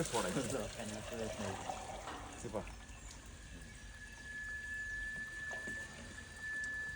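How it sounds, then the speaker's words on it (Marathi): Water rushes steadily from a one-inch pipe, mixing into fertilizer, a continuous pouring flow under a voice that fades out, leaving the running water alone. "हे एक इंची पाईप घेतलेला याच्यामध्ये आणि त्या खतामध्ये पाणी मिक्स करते"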